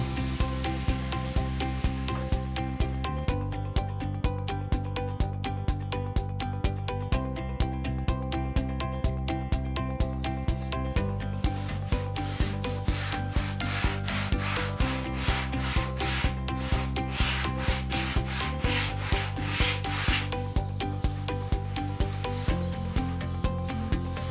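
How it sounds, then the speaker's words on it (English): A sanding pad is rubbed by hand into the creases of a wooden fluted dresser, making steady, repetitive back-and-forth rasping strokes over a continuous tonal background. "I'm just using a sanding pad by itself and just getting those creases that I can't get with my sander"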